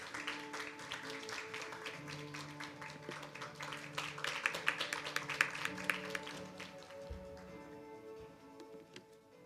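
Applause from the audience of an international justice and human rights symposium welcoming the foundation chairman, a steady spread of clapping with some ticking, moderately distant and easing off toward the end.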